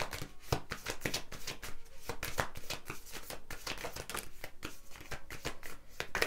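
Close-up tarot cards being shuffled, a rapid continuous flutter of riffling and slapping card edges.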